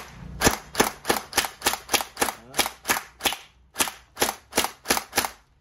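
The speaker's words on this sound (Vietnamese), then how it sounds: "Mình sẽ bắn vào cái thùng kia cho anh em xem" An AK47-style blowback gel blaster toy gun with full gearbox shooting at a barrel: about fifteen sharp, snappy shots in a steady rapid rhythm, close and loud, with a brief pause midway.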